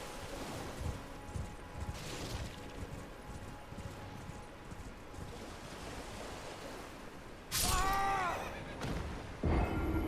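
A horse whinnies loudly near the end, over steady clopping hooves and a wash of water or surf in Elden Ring.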